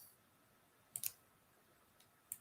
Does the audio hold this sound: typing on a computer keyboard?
yes